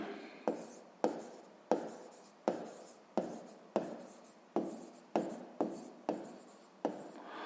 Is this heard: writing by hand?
yes